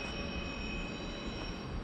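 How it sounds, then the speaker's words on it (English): A permanent way maintenance train crosses the South Yorkshire Joint railway bridge with a steady, loud rumble and a continuous high wheel squeal ringing throughout. "Train going over the South Yorkshire Joint Bridge"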